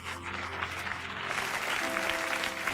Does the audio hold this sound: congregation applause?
yes